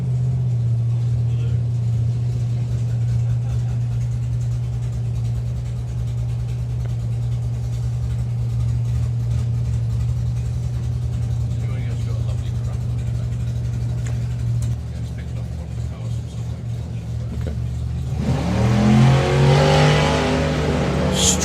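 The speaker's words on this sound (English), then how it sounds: "Strong launch from Wayne there." A nitrous-equipped drag racing car launches hard down the strip at a drag racing festival, its loud engine drone holding steady under a commentator's talk before a closer, rising roar sweeps past near the end.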